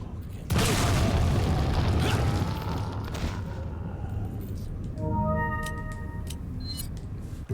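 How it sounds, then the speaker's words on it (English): A rocket launcher fires in Resident Evil 4 with a sudden loud boom and a long rumbling roar. The roar fades over several seconds, then a series of short chiming, clicking game tones follows. "this rocket launcher's only good for 1 use"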